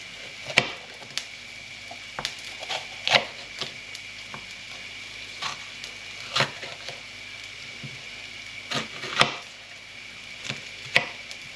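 A knife chops a pepper on a cutting board, striking in sharp, irregular taps, sometimes single and sometimes in quick pairs, close and clear over a faint hum of sizzling in the background.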